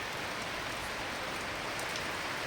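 Steady rain pours down in Chhatrapati Sambhajinagar, a dense, even hiss of drops on surfaces that runs unbroken and fairly close, with no voices.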